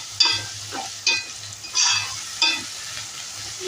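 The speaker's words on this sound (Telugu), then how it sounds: "కారం వేసుకొని కలుపుకొని" A spoon stirs chili powder through tomatoes and green chilies frying in a hot pan, several scraping strokes rising over a steady close sizzle, with no talking.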